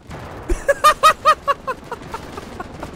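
A rapid string of explosive shots from a quad launcher rifle in the Ravenfield game, about ten punchy bursts fired in quick succession that start loud and trail off into fainter pops.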